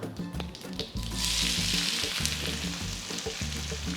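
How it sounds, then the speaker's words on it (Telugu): Two large finely chopped onions hit hot oil with mustard and cumin seeds, a loud bright sizzle swelling after a second over rhythmic low thumps and scraping of stirring, no voices. "ఇప్పుడు నేను నెక్స్ట్ దీంట్లో రెండు పెద్ద ఉల్లిపాయలు సన్నగా తరిగి వేస్తున్నాను"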